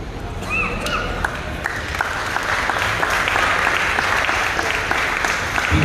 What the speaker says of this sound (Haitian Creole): on applaudit Pascal